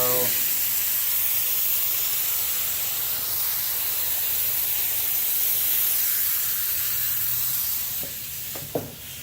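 Liquid Concepts activator sprayed in a long, steady hiss across hydro-dipping film, continuous and close for most of the pass before tapering off, with a couple of brief knocks at the end.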